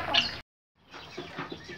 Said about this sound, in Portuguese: Olha lá, ó, minhas galinhas lá, ó.